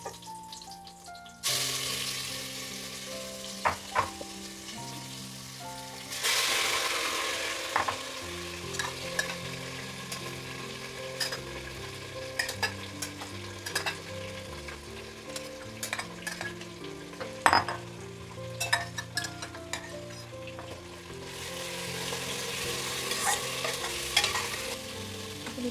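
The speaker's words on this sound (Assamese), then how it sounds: "এনেকৈ লৰাই ভাজি ল'ম 5 মিনিটমান সময়" Marinated mutton sizzles and fries in a pan with cloves, cardamom, cumin and ajwain while being stirred, with steady frying hiss, repeated scraping strokes and occasional clinks of the spoon against the pan, close and fairly loud throughout.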